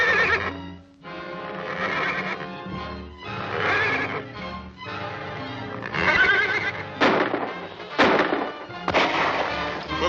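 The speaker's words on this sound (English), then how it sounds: "Smelling salts will make my horse whinny." A horse whinnies loudly and repeatedly, with another horse answering it, near and dense across the whole stretch, with some low hoof or movement noise underneath.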